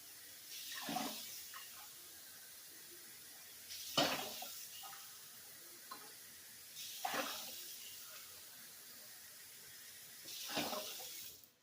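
Water splashes and gushes into a pot in four separate bursts with quiet gaps between them, each pour building up and then fading.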